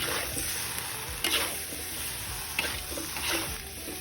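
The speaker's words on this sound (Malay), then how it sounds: "Kacau." A spatula scrapes and stirs fried rice cakes (lontong) in a hot pan, with steady sizzling underneath and a few sharper scraping strokes.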